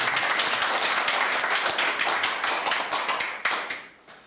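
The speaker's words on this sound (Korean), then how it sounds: "우리 박수로서 한번 특별히 환영을 하고 있습니다" An audience at a welcome gathering breaks into a sustained round of clapping, dense and fairly close, with individual claps growing more distinct as it thins out and fades at the end.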